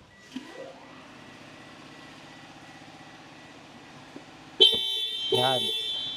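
Anti-theft alarm on a 2026 Mitsubishi Montero GLX manual, the horn bursting out loud and near after a quiet stretch of idling engine with a single faint chirp, followed by repeated short blasts.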